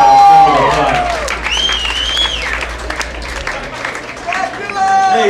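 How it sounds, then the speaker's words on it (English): Audience applause for a performer being introduced on stage, dense clapping with some cheering and crowd noise, loud and close at first, with a host's voice and bright whistle-like tones above the clapping. "Everybody give him a round of applause."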